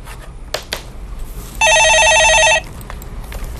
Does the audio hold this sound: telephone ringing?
yes